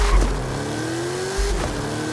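A tuned 1750 hp 2021 Bentley Flying Spur accelerates in the Forza Horizon 5 racing game, a steady loud engine drone with a rising tone as it pulls through the gears, continuous and close.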